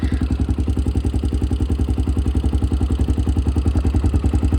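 A 1992 Honda XLR Baja motorcycle engine idles steadily and loudly up close, its low, even chugging pulsing in a fast regular rhythm throughout.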